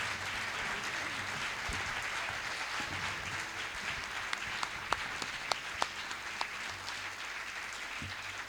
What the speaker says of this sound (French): On applaudit pour papa, s'il vous plaît.